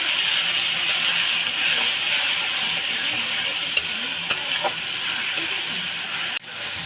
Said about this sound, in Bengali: এর মধ্যে আমি আদা রসুন আর পেঁয়াজ বাটাটাও অ্যাড করে দেবো দিয়ে ভালো করে কষিয়ে নেব